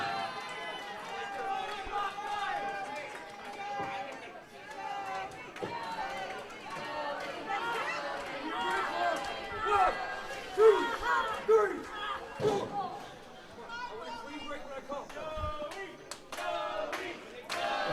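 A wrestling crowd at a Spotlight Slam event cheers, chatters and claps in a steady, roaring wash, with louder bursts of applause and a thud from the ring partway through, under a commentator's running talk.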